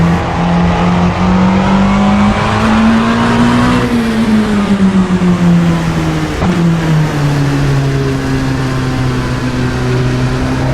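LMP2 race car in the Assetto Corsa racing game, a loud continuous engine drone that rises in pitch, then drops away as the car brakes and downshifts, with steady high-revving tone and no talk.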